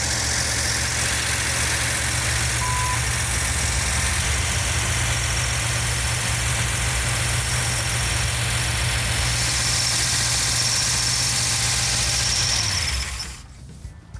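A 1970 Challenger R/T with a 440 Six Pack engine idles loud and close, a steady low rumble with a lopey throb and valvetrain ticking that holds evenly before cutting off abruptly near the end.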